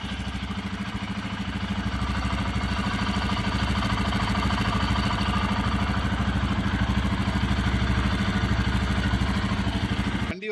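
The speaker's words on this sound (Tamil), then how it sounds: "இப்போ பைக் ஸ்டார்ட் பண்ணியாச்சு." A Royal Enfield Himalayan 450 motorcycle engine idles close by after starting, with a steady, even rumble and clatter that holds for about ten seconds with no talking.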